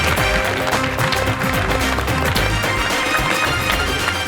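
A studio audience applauds to welcome guest Areej Fatima onto a talk show: dense, steady clapping fills the whole stretch, loud and close, with music-like tones underneath.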